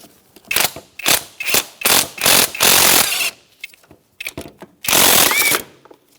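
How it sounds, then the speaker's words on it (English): Loud, close ratchet clicks come in short repeated bursts and a few longer runs as a ratchet with a 12mm socket loosens the alternator wire nut on a 2005-2010 Chrysler 300 5.7L V8, with short pauses between strokes. "Now we're going to use a 12mm socket to remove this nut for the wire."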